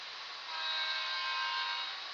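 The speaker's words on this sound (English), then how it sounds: "Crazy fast freight coming through." A model freight train races fast past a sundeck layout, giving a steady, loud, close rolling whir that swells slightly midway, with no voices.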